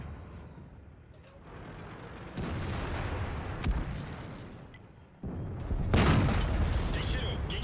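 Tank gunfire in World of Tanks during a duel with a T-54: booming cannon reports and impacts sound over a steady engine rumble, with a sharper sudden burst near the end, while someone talks over the action.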